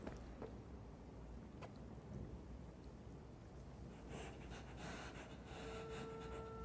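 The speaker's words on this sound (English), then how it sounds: "Who in God's green earth is fucking breathing like that?" Heavy, ragged breathing from a Cyberpunk 2077 game scene, a steady panting rasp over a constant low rumble that grows denser and louder in the second half.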